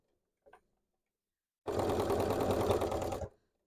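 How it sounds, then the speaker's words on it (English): A sewing machine runs in one steady, close burst of fast stitching through fabric while a hat is being made, lasting under two seconds after a faint click. "Now I just gotta make sure I don't sew the tube because I can't see it."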